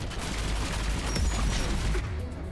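Turret gunfire in Mass Effect 3, a dense sustained burst of rapid shots merged into a loud continuous roar that eases off near the end.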